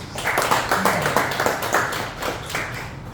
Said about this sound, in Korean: 강사님께 크게 박수 한번 해주세요.